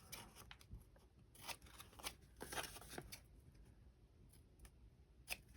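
Scissors trim paper for an envelope craft project, giving a quiet string of crisp, uneven snips and rustles close by, with no talking.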